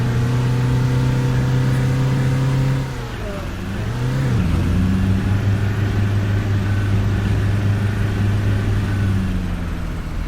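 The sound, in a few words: bus engine revving in Fernbus Simulator video game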